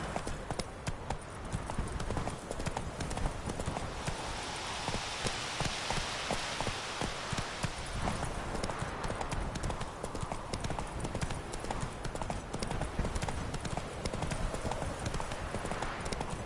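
Hooves clip-clop in a rapid, steady rhythm as a horse travels through rain in The Witcher III, with rainfall hissing continuously underneath at a moderate level.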